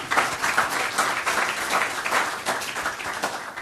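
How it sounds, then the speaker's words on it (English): Applause from the audience at a city council meeting, a continuous round of fairly loud, dense clapping that holds steady throughout. "That's a round of applause."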